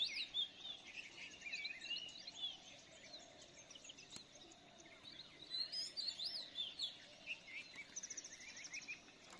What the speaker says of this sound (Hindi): पक्षियों का स्वर